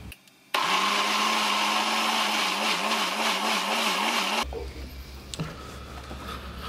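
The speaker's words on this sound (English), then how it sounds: "We're now going to puree this in a liquidizer." A liquidizer purees cooked, drained broccoli with a loud, close, steady whirring motor that wavers in pitch for about four seconds, then cuts off, leaving a low hum and a faint knock.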